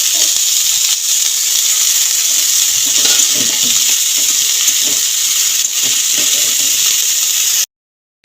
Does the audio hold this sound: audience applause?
no